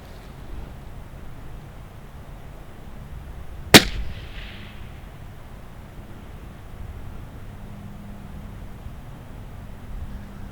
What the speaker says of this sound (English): So the gun doesn't go off, it just goes pop. Misfire